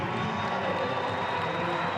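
Stadium crowd applauding during a late substitution at the USL Cup Final soccer match between New York Red Bulls II and Swope Park Rangers, a steady, dense wash of clapping and cheering with no clear breaks.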